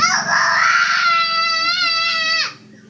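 A young child screams loudly in one long, high-pitched wail lasting a couple of seconds before breaking off into quieter background noise.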